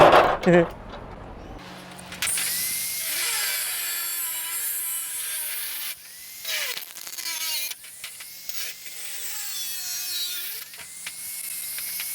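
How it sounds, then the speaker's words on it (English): A saw rasps back and forth through a part of an old, rusty VW Beetle during a hidden door hinge build, a sustained close grinding cut with short pauses, after a brief voice at the start. "let's get this thing sawed through for starters."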